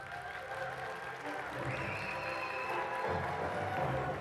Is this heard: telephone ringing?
no